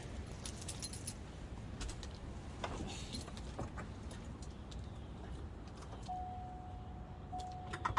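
Car keys jangle in irregular metallic clinks and rattles, close by, during a mid-winter start-up of a stored car, with a thin steady electronic tone appearing near the end.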